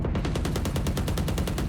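Rapid automatic gunfire strikes a wall in Valorant, a loud, evenly spaced burst of sharp shots that runs continuously and close throughout, with no voices.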